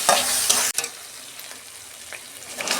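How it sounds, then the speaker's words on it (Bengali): Cumin seeds and ginger frying in a pan for a home-style cabbage dish, with a close crackling sizzle and a sharp scrape or clack of a spoon stirring early on, then continued sputtering frying. "তখন আমি 2 মিনিট কষে নেব।"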